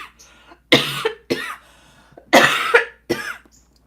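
A person coughs several times in short bursts, loud and close, with brief pauses between the harsh hacking fits.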